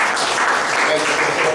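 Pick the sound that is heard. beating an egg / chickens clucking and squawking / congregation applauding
congregation applauding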